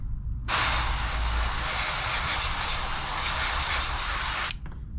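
A steady, close spray-paint hiss starts abruptly, runs for about four seconds, then cuts off, while painting markings on a Monogram P-39 model kit.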